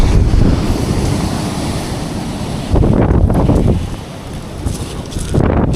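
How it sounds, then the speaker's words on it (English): Strong wind buffets the microphone on a stormy beach at Dungeness, Kent, a loud continuous roar with gusts swelling and easing over crashing surf. "I'm sorry if you're copping the wind today"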